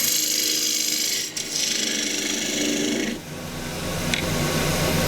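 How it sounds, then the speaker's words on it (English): A wood lathe spins as a 3/8 deep fluted bowl gouge hollows out a small dish, giving a continuous loud broadband cutting hiss with a couple of brief dips where the tool lifts, close by. "I'm going to hollow this out with a 3/8 bowl gouge, deep fluted bowl gouge"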